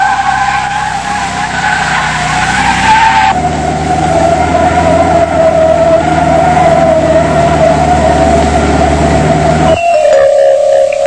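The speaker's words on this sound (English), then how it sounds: "One of the steering and handling tests involves driving in a circle." A 1982 Skoda car drives in a circle during a steering and handling test: a loud, steady engine drone runs throughout with a sustained tire squeal over it, and the pitch shifts briefly near the end.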